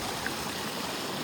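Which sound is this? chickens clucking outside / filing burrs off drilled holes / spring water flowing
spring water flowing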